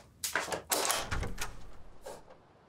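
A door opening as someone arrives at a house: a run of knocks and thuds followed by a heavier bump and a shorter final knock, near and moderately loud.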